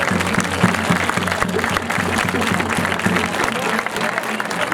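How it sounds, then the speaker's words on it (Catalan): An audience applauds at the inauguration of a roundabout honouring Toni Bou: steady, dense clapping from a crowd, loud and continuous throughout, with a low hum of voices beneath. "Sí, ja podeu aplaudir, ja."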